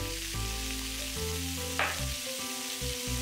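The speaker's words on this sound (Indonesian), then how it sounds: "Tambah minyak lagi. Terus tumis di sini." Onions sautéing in oil in a pan for ratatouille give a steady, even sizzle close by with a brief stir scrape in the middle, over a low continuous hum and no voices.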